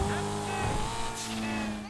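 Jester sports car engine in GTA Online, a sustained tonal engine drone with steady harmonic whine, held at a fairly constant pitch and close, with a brief hissy tire or air burst midway.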